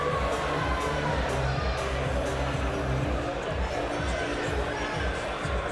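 A boxing crowd cheering in an arena, a steady roaring wash of voices and hubbub with a low rumble underneath, continuous and moderately loud throughout.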